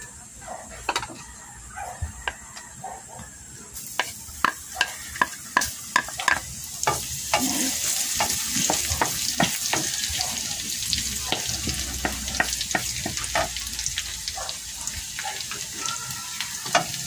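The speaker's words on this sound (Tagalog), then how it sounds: "Gigisa na po natin ang ating bawang." Garlic sautés in a pan of a little oil for a home-cooked pork dish, a steady sizzle that grows louder partway through, punctuated by repeated clacking stirs of a utensil against the pan.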